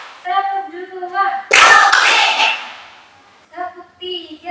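A class of students claps hands in unison on a teacher's command, a loud burst of applause between stretches of chanting voices.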